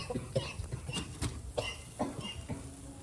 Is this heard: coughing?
yes